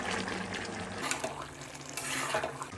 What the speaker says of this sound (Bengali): এখন এর ভিতরে দিব হচ্ছে মাছ। দিয়ে দিলাম মাছ।